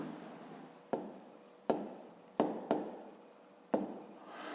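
Pen strokes on paper while a pupil writes out a fifth-grade maths exercise, a series of short scratchy bursts separated by brief pauses, close and quiet, with no talking.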